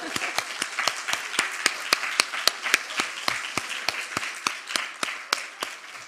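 A church congregation at a prayer school session claps in steady unison, sharp evenly spaced claps at about three per second for roughly six seconds, fairly close with a little murmur underneath.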